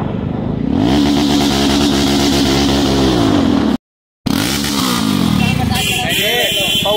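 A loud motorcycle engine revs hard twice, rising and falling in pitch with a brief cut between bursts, close and roaring.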